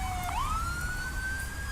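Police siren from a 1965 film, a single rising wail that climbs and then holds a steady high tone, loud and close with no talking over it.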